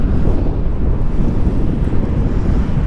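Strong wind near rows of windmills in the Coachella Valley desert, a loud constant roar buffeting the microphone throughout, with no voices.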